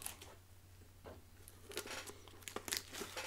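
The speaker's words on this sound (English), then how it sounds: "as I cut this box open" Scissors or a blade cutting open a cardboard Pokémon card tin box, heard up close and alone as quiet crinkling, tearing and scraping bursts with no talk.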